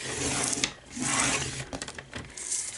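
A scoring tool rubs along paper on a scoring board, giving short close scraping strokes with brief gaps between them, quiet and alone.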